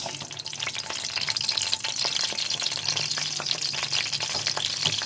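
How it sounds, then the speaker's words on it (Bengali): Steady crackling sizzle of whole spices, panch phoron, bay leaves and cardamom, frying in hot oil, close and continuous, with occasional scraping stirs. "তেলের মধ্যে ফুটছে।"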